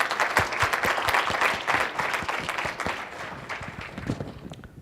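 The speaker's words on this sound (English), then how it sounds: "Let's give him a big round of applause" A conference audience at SIRACon 2014 applauds to welcome security speaker Michael Roytman, a steady burst of many hands clapping close to the microphone that keeps up throughout and thins slightly toward the end.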